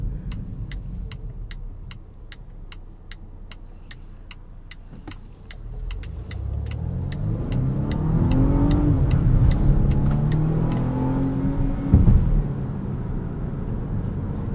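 A 2020 Volvo V60 Cross Country T5 AWD with its simple four-cylinder engine, no supercharger or electric assist, heard from inside while driving; a steady ticking indicator runs first, then the engine note climbs loudly as the car accelerates.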